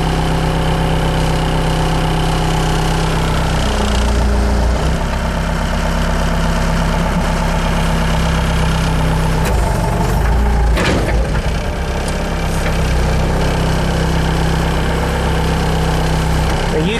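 A 12-volt powered hydraulic big arm swing backhoe attachment for a skid steer loader runs with a steady, loud hum and whine that shifts in pitch as it swings left to right, with a person talking over it.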